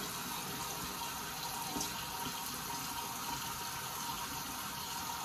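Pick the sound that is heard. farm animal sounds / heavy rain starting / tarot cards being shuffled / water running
water running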